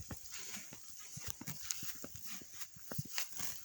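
Horses grazing out in an open pasture, including a black mare, with soft hoof thuds and shuffling scattered across a steady outdoor hiss, fairly close by.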